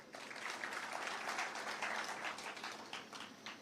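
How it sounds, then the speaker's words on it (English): A gathered audience at a Kenyan government event claps for officials, a steady, even spatter of applause that holds for a few seconds before easing slightly, heard from some distance. "Please clap for them."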